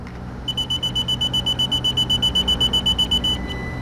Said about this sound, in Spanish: Escuchen la alarma